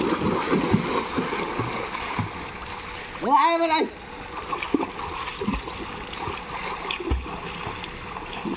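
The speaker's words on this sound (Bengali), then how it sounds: "জলটা পড়ছে তো দেখতেই ভালো লাগছে" Water pours and splashes steadily at a water park in Tarapith, a soft, continuous rush heard under a voice and background noise.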